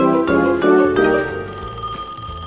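Toy telephone bell ringing loud and close during pretend play in a kids' mechanic truck repair game, a bright jangling ring with bursts fading into a sustained high tone, no speech.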